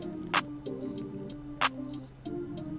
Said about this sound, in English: I'm opening another part of the beat with some open hat